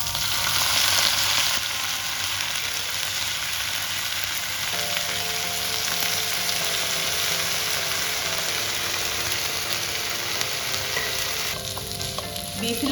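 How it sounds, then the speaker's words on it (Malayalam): Cooked beef frying in an onion-filled pan for Kerala beef ularthu, a loud steady sizzle with stirring that runs continuously throughout, no voices. "ഇതിലേക്ക് നമുക്ക് വേവിച്ച് വെച്ചിരിക്കുന്ന ബീഫ് ചേർത്ത് കൊടുക്കാം."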